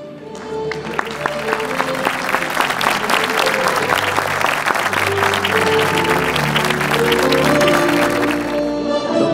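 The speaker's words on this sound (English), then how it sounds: "A huge round of applause, ladies and gentlemen." A crowd at an award ceremony for a motivational speaker gives sustained, loud, dense applause that fades out at the end, with music playing faintly underneath.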